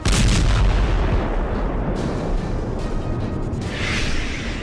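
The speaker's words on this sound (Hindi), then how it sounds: "रूस के काला सागर बेड़े के मुख्यालय पर एक भीषण मिसाइल हमला किया गया।" Missile strike on the Russian Black Sea Fleet headquarters in Sevastopol, Crimea: a loud, roaring blast of continuous rumbling and crackling noise that fills the whole clip, with no voices.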